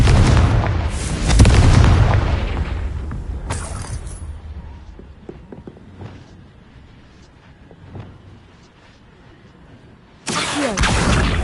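A Confringo spell explosion in the Hogwarts Legacy video game bursts with a loud deep boom, fades into rumbling debris and crackles, then another heavy blast roars in near the end.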